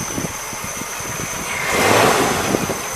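A 1960 Cadillac engine idles steadily up close, its low throb swelling briefly louder toward the middle before settling again.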